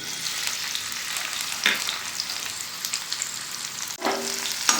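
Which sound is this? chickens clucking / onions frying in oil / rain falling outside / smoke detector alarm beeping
onions frying in oil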